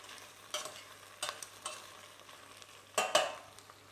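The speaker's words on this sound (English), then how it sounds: "Give a quick stir." Prawn heads and skins are stirred in a hot pan, giving several loud scraping bursts with sizzling in between, against a quiet low hum; no voices.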